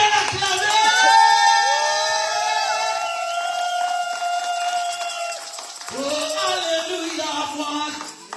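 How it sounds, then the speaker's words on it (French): A church congregation cheers and acclaims loudly with sustained shouts, whoops and high cries that rise and waver together, easing briefly before another wave of voices. "Ça, c'est des acclamations."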